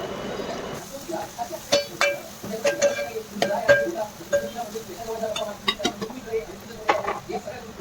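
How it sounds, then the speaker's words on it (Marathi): Red chilli powder, Kashmiri chilli masala and turmeric fry in hot oil in a pan for a crab curry: a soft sizzle under repeated metal clinks of a spoon stirring against the pan, with a voice talking over it. "थोडासा मसाला तेलात परतून घेणार आहोत"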